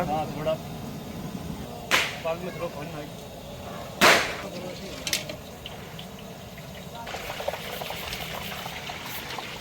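Balushahi sweets frying in hot oil until brown, a steady bubbling sizzle with a few sharp clatters, heard at close range in a cook's kitchen, while people talk intermittently in the background.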